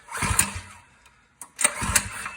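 Predator 212 small gas engine, built into a shopping cart with a stage kit, cranking with the choke off on its first start: two short loud sputtering bursts separated by a brief quiet gap.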